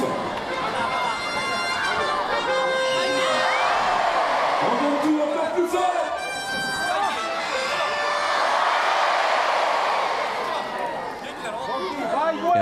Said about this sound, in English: Allez, that is the word being heard from the stands.